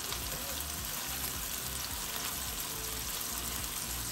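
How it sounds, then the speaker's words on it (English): Meatballs browning in a pan on the stove give a steady, even frying hiss that runs unbroken at moderate level throughout, with no talk. "I'm gonna go ahead and start browning up these meatballs."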